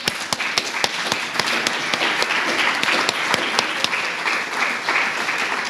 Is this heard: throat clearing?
no